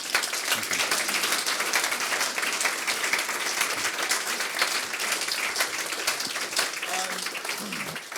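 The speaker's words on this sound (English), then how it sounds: "I think a round of applause is due" Sustained applause from an audience at a talk on Slim, Britain's greatest general, rolls on for several seconds as a dense, even clatter of many hands, with a voice briefly heard near the end.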